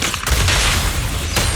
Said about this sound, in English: Watch out for Grim Vulture taking shots from afar!